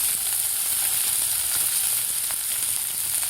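Finely chopped onions with cumin and fennel seeds sauté in a pan toward golden, producing a loud, close, unbroken hiss of frying that stays even from start to finish.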